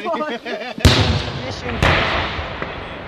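Two loud, sharp explosions from incoming mortar rounds amid tank fire in a Ukrainian war zone, each blast followed by a long rumbling decay, with someone talking beforehand.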